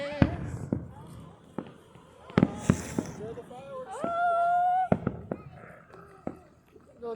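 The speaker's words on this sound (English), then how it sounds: "that's a lot of fireworks!" Fireworks bursting overhead in a run of sharp, loud bangs spread irregularly through the clip, some with crackling tails and a brief rising whistle, as people talk excitedly close by.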